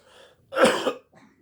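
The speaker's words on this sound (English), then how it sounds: "Excuse my cough, guys. It's bad." A single sharp, throaty cough, close up, with faint breaths just before and after.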